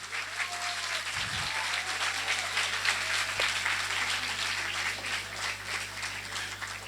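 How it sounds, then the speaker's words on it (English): A crowd applauds steadily at a college festival event, a dense continuous patter of clapping heard from some distance, with a steady hum underneath and no clear talk. "Can we have a huge round of applause?"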